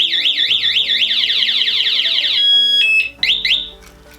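Rupse motorcycle alarm going off through drilled holes in the front of its box: a loud, close electronic siren warbling rapidly up and down, then switching to choppier tones and brief chirps.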